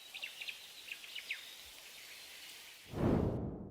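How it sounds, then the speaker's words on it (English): Jungle ambience with quick, faint bird chirps and insect calls trilling over a soft hiss, followed by a louder rustling swell near the end. "Jungle environment sounds."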